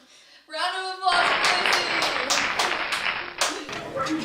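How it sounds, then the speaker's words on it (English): Round of applause at an elementary school history presentation, breaking out after a short voice and continuing as dense, steady clapping from a group, fairly close and loud for several seconds. "Round of applause"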